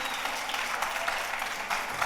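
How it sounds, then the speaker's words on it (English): Applause from a conference audience after a talk on sustainable tourism, a steady wash of moderate, somewhat distant clapping that continues evenly with no break. "Thank you for your applause."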